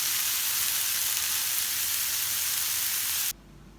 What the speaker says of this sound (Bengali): চিংড়ি মাছ দিয়ে ভাজিটা একটু করে নেব।